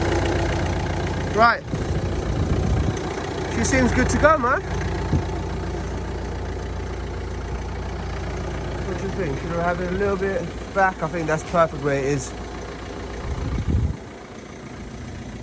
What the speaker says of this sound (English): Engine ticks over pretty good.